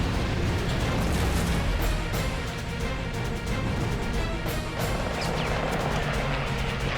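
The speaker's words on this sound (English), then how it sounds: "The Zero bursts into flame and plummets." A Japanese Zero floatplane erupts in a loud, sustained crashing burst of explosion and flame, with several sharp cracks layered over a continuous roar.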